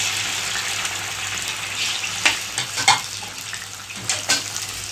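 Tomatoes frying in a pan on a gas stove for a Kashmiri tomato cauliflower dish, a steady close sizzle with a few stirring scrapes and clinks toward the end.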